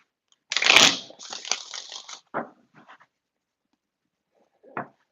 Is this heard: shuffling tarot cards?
yes